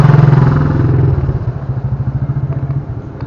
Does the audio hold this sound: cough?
no